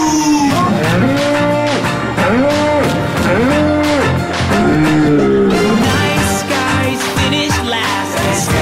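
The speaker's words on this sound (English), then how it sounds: "Cows go moo." Several drawn-out cow moos repeat one after another in a steady rhythm, loud and close, over a dense busy background with no talking.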